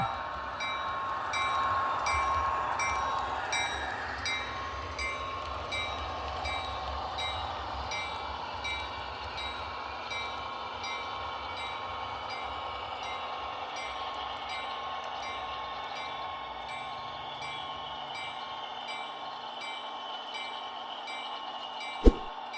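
An Amtrak passenger train led by an NPCU idles at close range during a brief stop at a suburban station, its engine humming steadily with faint tonal whines and a brief sharp clank near the end.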